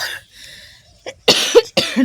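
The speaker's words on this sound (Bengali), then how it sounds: "বাপরে আমার কি কাশি হচ্ছে" A person coughs in a village home: a soft breathy start, then two or three harsh, loud, close coughs in quick succession.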